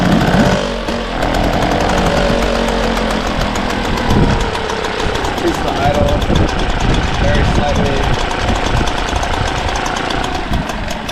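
A Mercury outboard motor fitted with a Hangkai carburetor starts up and keeps running, its loud, steady engine drone and rapid firing rhythm filling the whole stretch, with voices briefly audible underneath.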